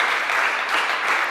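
A conference audience applauds after a supply-network talk, a steady even wash of many hands clapping throughout at moderate level.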